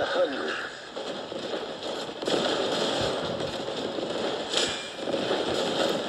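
Howitzer artillery in the tank strategy game Warpath fires in repeated booming bursts over a constant dense wash of battle noise, with heavier blasts standing out near the middle and again later.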